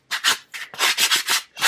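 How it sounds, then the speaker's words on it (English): Rough sanding along the sharp cut edges of small dollar-store craft pieces, a series of about seven close, steady back-and-forth rubbing strokes with brief pauses between them. "I'm going to give the edges some sanding just so they're not so"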